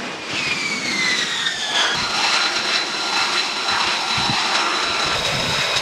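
F-35B Lightning II fighter jet engine running as US Marines hot load the aircraft: a loud, steady roar with a high whine that slides downward, heard alone.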